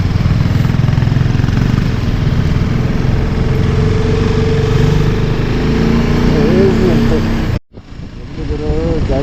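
Motorcycles and cars crowd a roadside at Nandi Hills, engines idling and rumbling steadily nearby, one revving up toward the end, with a brief cut before the engine noise returns.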